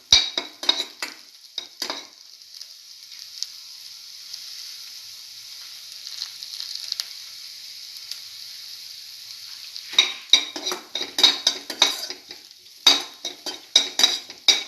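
Shallots sautéing in a pan, a steady sizzle under bursts of spoon scraping and stirring at the start and again in the last few seconds, close and moderately loud.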